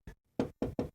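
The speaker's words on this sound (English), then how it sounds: "I'm going to knock wood." Knuckles rap on a wooden computer desk: one knock, a short pause, then three quick knocks in a row, close and crisp in an otherwise quiet room.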